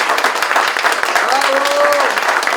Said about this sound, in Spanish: ¡Otro aplauso al doctor!